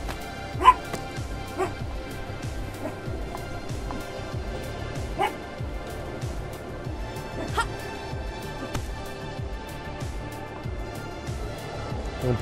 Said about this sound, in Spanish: Un perro muy pesado, si se escucha lo siento muchísimo.